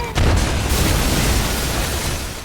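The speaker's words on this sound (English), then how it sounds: "triggering a massive explosion that obliterates the house" A heavy explosion destroys a house, bursting in suddenly, then a loud, sustained rumbling roar of debris and fire carries on without letting up.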